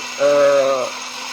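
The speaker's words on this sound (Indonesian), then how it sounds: "Kita giling sampai halus." An electric blender runs briefly, grinding herbal gout-remedy ingredients sweetened with honey, palm sugar or rock sugar into a smooth juice: a steady motor whine lasting under a second that rises abruptly and then cuts off.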